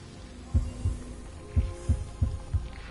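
A video game heartbeat sound effect gives three pairs of deep, soft thumps in a steady lub-dub rhythm over a low background hum, with no talking.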